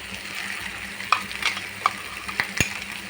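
Ground spice paste of poppy seeds, cinnamon, cloves, cardamom and cumin fries in a pan for a fish curry, a close crackling sizzle under repeated sharp scraping strokes as it is stirred in, with no talk.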